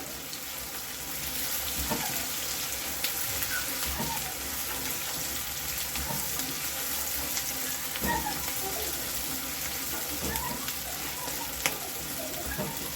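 Green chillies, slit down the middle, crackle in a hot oil tempering for a methi matar malai gravy, a steady close sizzle running throughout with small pops and stirring scrapes, no voices.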